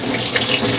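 Water rushes through a newly opened shut-off valve into a travel trailer's fresh-water tank, a steady, close, continuous flow with no talking.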